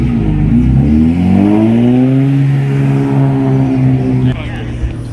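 A Dodge Charger Scat Pack at a cars and coffee meet gives a loud, close, deep V8 rumble that swells and sinks in pitch before cutting off near the end.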